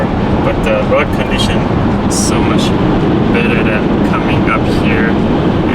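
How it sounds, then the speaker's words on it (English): Loud, steady wind roar and road noise fill a moving 2024 Tesla Model Y in -21C winter weather while someone talks over it. "You can hear the wind blowing outside to inside of the car."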